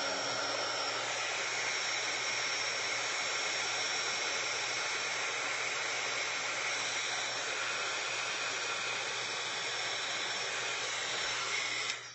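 A hair dryer blows steadily on a watercolor painting of trees and landscape, a loud, unbroken whooshing roar running the full length before cutting off abruptly at the end.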